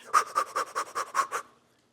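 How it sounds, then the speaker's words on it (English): Fast rhythmic breaths from a breathing exercise: about nine quick, evenly spaced puffs of air, close and fairly loud, then silence. "And then periodically we do fast breaths."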